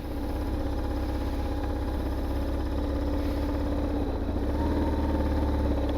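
A BMW GS 1150 motorcycle rumbles through a slow-speed turn, its engine burbling steadily and fairly close at low revs for the whole stretch, with no one talking.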